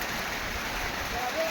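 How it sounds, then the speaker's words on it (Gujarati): Light drizzle patters softly and steadily, a faint continuous wash of small drops with no clear voices. "ઝરમર વરસાદ ચાલુ છે"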